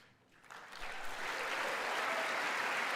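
Applause from the chamber at the State of the Union address, rising from a quiet start into a steady, dense wash of many hands clapping that holds without pause.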